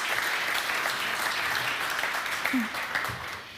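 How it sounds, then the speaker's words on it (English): Audience applause welcoming a vice president of innovation at a conference panel, a fairly faint, steady wash of clapping from a crowd with a brief voice murmur partway through. "A warm applause"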